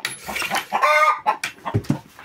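A hen in a henhouse clucks and grumbles close by, a run of throaty, irregular calls rising into a drawn-out complaining note, followed by a couple of short low clucks.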